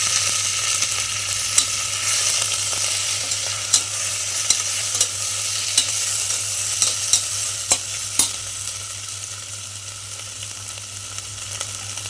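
Tomatoes going into onions fried until reddish in a new pressure cooker for masale bhaat, giving a steady sizzle with a low hum beneath and sharp clicks of a spoon against the pot at intervals.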